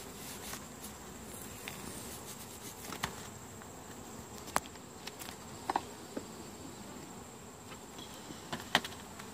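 A steady, dense hum of bees rises from an opened hive box, with scattered sharp taps and clicks of frames being moved throughout; no one speaks.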